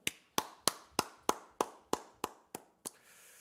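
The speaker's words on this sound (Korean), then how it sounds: "하나님 앞에 영광의 박수를 드리겠습니다." About ten sharp, evenly spaced claps from a congregation during an Easter Sunday church service, ringing slightly in a reverberant room and ending abruptly.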